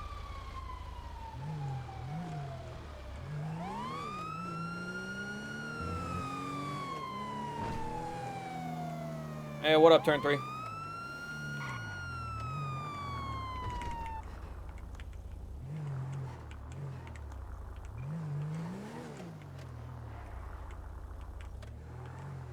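Rising and falling emergency sirens wail over a low engine drone in the video game GTA V, joined by a second siren and a brief burst of chatter midway.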